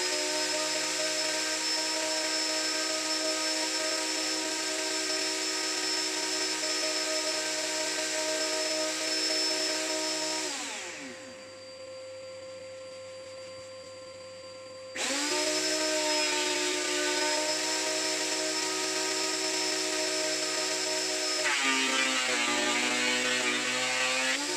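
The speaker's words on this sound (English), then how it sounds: "this is actually the reason I bought the planer" A Lumberjack PT 254 electric planer runs across a grimy old floorboard, a loud close motor whine that drops to a lower idle mid-clip, then surges back up to full cutting pitch.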